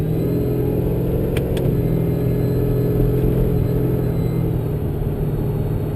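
A supercharged Whipple VE Maloo ute with a manual-shift Turbo 400 transmission drives along, its engine a steady, loud low rumble throughout, with a couple of brief sharp ticks partway through.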